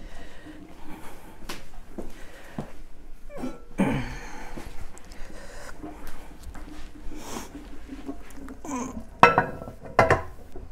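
Metal lid being set onto a canner loaded with jars of butter, with clinks and clanks of metal and glass, a louder knock near the end, and some background voice.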